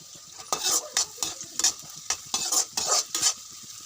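Chopped garlic and onions frying in a pan for soya chilli, a steady sizzle punctuated by a quick rhythmic series of about ten spatula scrapes and clinks against the metal, close and without talk.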